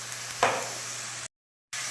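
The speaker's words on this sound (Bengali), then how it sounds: "এবারে মশলাটা খুব ভালো করে কষিয়ে নেব" Salt, chilli powder and turmeric hit oil in a pan with one sudden hissing burst that fades into a soft steady sizzle, close, before a brief cut to silence and back.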